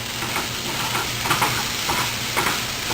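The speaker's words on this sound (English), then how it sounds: "And this is about half of a medium onion. Just going to stir that in there." Half a medium onion stirred into a hot pan, a steady close sizzle with scraping stir strokes throughout.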